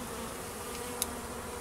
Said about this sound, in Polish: Więcej nie będę pszczół denerwował.